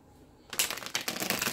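Tarot cards shuffled by hand: after a quiet moment, a close burst of rapid riffling flutter runs steadily for about a second.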